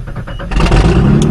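A 1986 Nissan 4x4 truck with a 5-speed cranks briefly and catches, settling into a steady, loud idle close by.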